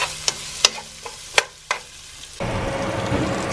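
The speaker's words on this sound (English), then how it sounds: "Haluin lang natin siya ng haluin hanggang sa mag maging kulay brown yung garlic." Garlic fries in a pan while a utensil stirs it, giving a few sharp scraping taps against the pan before a steady, close sizzle takes over.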